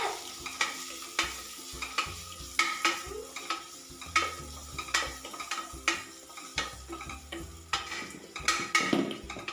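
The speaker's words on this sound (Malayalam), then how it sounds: "നമുക്ക് ഒരു തണ്ട് കറിവേപ്പിലയും കൂടെ വിട്ട് ഒന്ന് സോട്ട് ചെയ്തെടുക്കാം." Onions sauté with salt and a sprig of curry leaves in a pan for a Kerala-style curry: soft sizzling under repeated scrapes and clinks of a spoon stirring against the metal.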